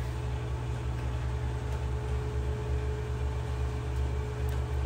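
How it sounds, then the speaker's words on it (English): Primary loop pump of a snowmelt heat exchanger system heating a driveway, giving a steady low hum with a constant tonal whine, running evenly and close by without any talk. "That's the primary loop pump."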